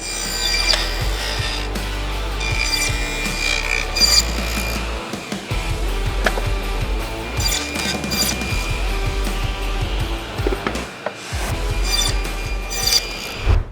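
Steady mechanical whirring of a table saw slicing through wood, loud and continuous with brief dips as each cut ends and the next begins.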